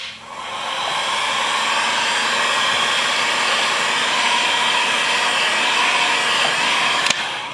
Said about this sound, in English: So that's what the heat gun is for.